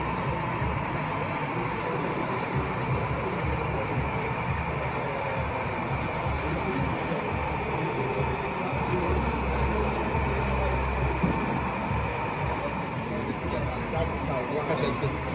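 An OO gauge model train runs on an exhibition layout, a steady rolling rumble and hum under constant crowd babble and nearby talk in a busy show hall.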